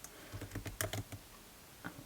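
Typing on a laptop keyboard: sparse, quiet clusters of soft key clicks in an uneven rhythm, close by and alone, with no talking.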